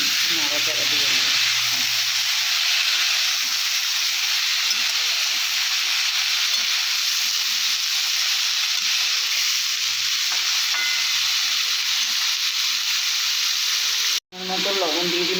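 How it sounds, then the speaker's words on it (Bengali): Small mola fish cooks with radish and potato in a pan, giving a continuous hissing sizzle and soft stirring scrapes, then a sudden brief dropout near the end. "তারপর মূলো আলু দিয়ে রেখেছি, ওটা দিয়ে দেবো। দিয়ে বেশ কিছুক্ষণ নাড়াচাড়া দিয়ে নেব।"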